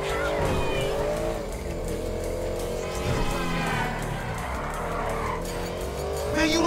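Motorcycle engine roaring during a chase in GTA V, a continuous revving drone with shifting pitch blended with other traffic and tire noise, steady and fairly loud throughout.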